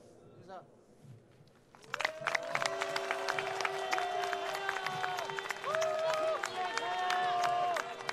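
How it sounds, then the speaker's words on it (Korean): Crowd at a large street rally by Sewol ferry victims' families bursts into loud sustained applause and cheering after a quiet start, with shouting and sustained tones over the clapping. "힘내라는 박수 다시 한번 힘차게 부탁드립니다"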